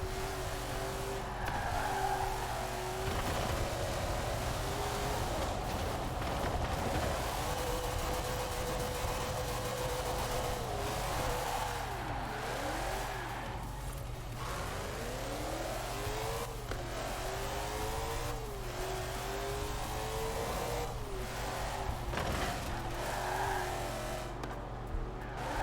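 A 1964 Ford GT40 Mk 1 in a racing game, its engine screaming at high revs and rising and falling through gear changes, with tire squeal and skids, loud and constant throughout with no talking.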